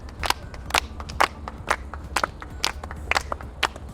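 Rhythmic hand claps for a child contestant at a children's competition, a steady series of sharp claps about twice per second, moderately close, with no voices over them.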